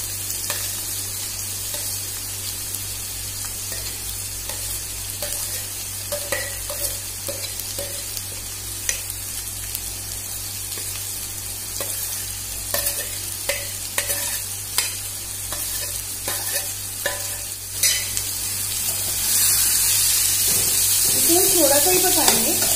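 Capsicum and carrots stir-frying over a high flame for homemade veg fried rice: continuous close sizzling with repeated scraping and tossing strokes, growing louder toward the end.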